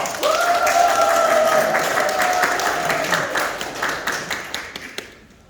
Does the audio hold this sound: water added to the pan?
no